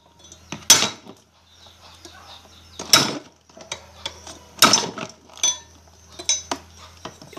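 Hammer blows against a stuck centrifuge motor part as it is taken apart: sharp metallic knocks come at irregular intervals, several of them loud, and a low steady hum runs between them.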